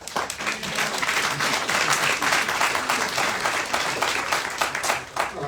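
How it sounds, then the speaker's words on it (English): Audience at a ward community meeting on a housing pilot claps steadily and densely for several seconds, a moderately loud round of applause with faint crowd murmur. "Before you start clapping, let's just make sure that it won't end in boos"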